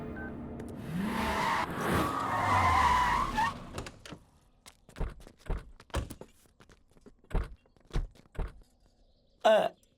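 A car's tires screech loudly as it skids to a stop, followed by several sharp thuds and knocks spaced out at intervals.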